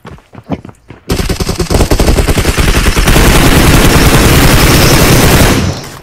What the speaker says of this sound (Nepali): मैले त ऱ्यान्डम फायर हानिदिएको